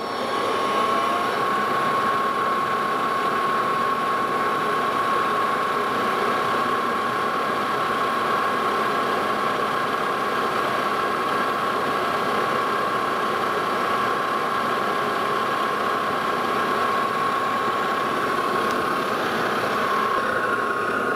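Metal lathe running steadily while a center is drilled into the end of a mandrel, a constant close mechanical hum with a faint high whine and no breaks.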